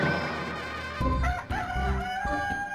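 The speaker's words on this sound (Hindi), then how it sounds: "तुम छींकी, फिर ये मुर्गा आ गया?" A cartoon rooster crows, its drawn-out cock-a-doodle-doo ringing clearly alongside a few clucking bursts, fairly close and without any talking.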